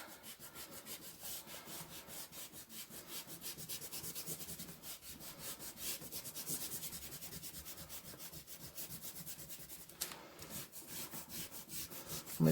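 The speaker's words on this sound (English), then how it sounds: "I can rub out all the bits that I don't need" An eraser rubbing back and forth over pencil lines on paper, a quiet, continuous scratchy scrubbing in quick repeated strokes, close up with no voices.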